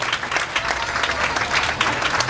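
Loud, sustained audience applause at a civic ceremony in Zacatecoluca, a continuous dense patter of many hands clapping from start to finish with a faint crowd murmur beneath.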